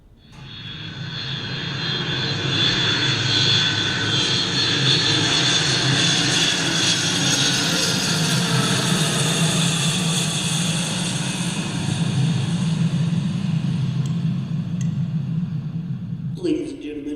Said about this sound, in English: Attendants and crew, prepare for takeoff.